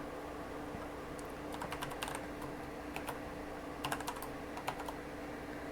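Keys clatter on a computer keyboard as Python code for a Pygame project is typed, in irregular bursts of quick clicks over a steady low room hum, fairly close and moderately quiet.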